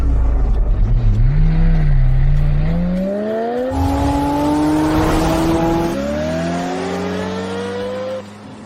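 A car pulls away and accelerates hard, its engine note climbing steadily through rising gear sweeps, loud and close with no talk.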